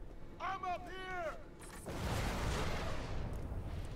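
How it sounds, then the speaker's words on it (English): In the video game Borderlands 2, a deep booming explosion erupts and rolls on as a broad rumbling blast, following a moment of voices talking. "An explosion."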